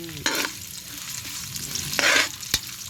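Ginger sautéed in a pan for chicken tinola, sizzling steadily up close with short bursts of louder frying as it is stirred.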